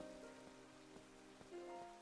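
Rain in the Pokemon Violet video game patters quietly and steadily, a faint, even wash of drops with a few soft ticks, heard under a low background tone with no talking.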